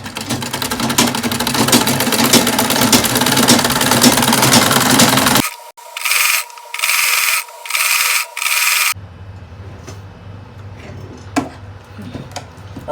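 Sewing machine joining Ankara gown bodice fabric pieces, right side to right side: a stretch of rubbing and handling noise, then four or five short, close mechanical stitching bursts, followed by quieter handling.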